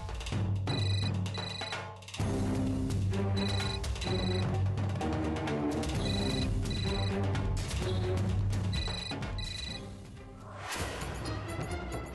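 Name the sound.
telephone ringing after placing a call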